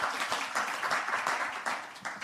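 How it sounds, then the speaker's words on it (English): A quick round of applause for presenters at a conference side event on climate at COP27 in Egypt, steady dense clapping from an audience throughout, moderately loud and fairly even. "a quick round of applause to all of those"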